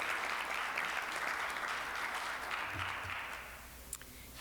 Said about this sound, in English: let's give a round of applause for our Rotarians and birthdays